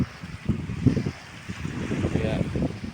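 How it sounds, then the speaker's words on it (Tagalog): Sea waves and cold wind at a seaside house, a rumbling wash of surf buffeting the microphone with gusty wind noise. "Yan ang dagat dito guys."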